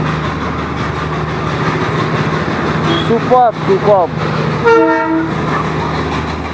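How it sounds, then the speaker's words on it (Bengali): Darjeeling Himalayan toy train passing at Batasia Loop, with rumbling wheels, a couple of short rising whistle blasts and a longer horn toot close by, while a person speaks briefly over it. "ফাইনালি এখন এই টয় ট্রেন বাতাসিয়া ঢুকছে, আর এখন আমরা এই টয় ট্রেনের পাশাপাশি।"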